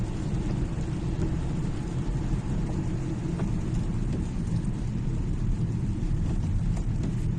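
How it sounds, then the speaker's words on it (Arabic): Dense road traffic of cars and trucks heard from inside a moving car on a rainy day in Jijel, Algeria, a steady low rumble and hiss of engines and wet tires running without break. "الطريق يعني مكتظة بالسيارات والشاحنات"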